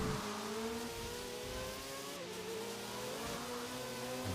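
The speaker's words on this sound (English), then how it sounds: "Oh, now I drive a truck of all things." A truck engine in the video game Forza hums steadily with shifting pitch, revving up and easing off continuously, close and fairly loud with no voices.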